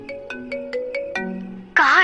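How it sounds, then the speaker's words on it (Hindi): A mobile phone ringtone plays a quick melodic series of electronic beeps, loud and close, ending in a burst of a warbling tone, with no talk. "तभी उसका फोन बजा।"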